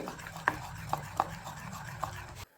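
A spoon stirs salt into a rice-flour batter for chitoi pitha, giving soft wet swishing with a few distinct taps against the bowl, close and fairly quiet, before the sound cuts off abruptly.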